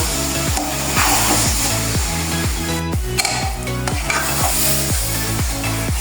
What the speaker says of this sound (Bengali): এবার নেড়ে চেড়ে মিশিয়ে নেব